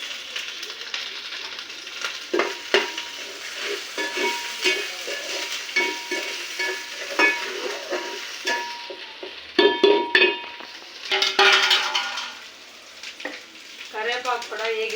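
Curry leaves sizzle and crackle in oil in a pan over a village-style wood fire, with steady frying and scattered sharp pops and stirring clinks.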